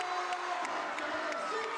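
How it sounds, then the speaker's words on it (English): A crowd cheers at a Lander Valley Tigers basketball game, a faint, distant wash of voices with small sharp accents popping out at regular intervals. "the crowd intensity has really turned up here in this second half"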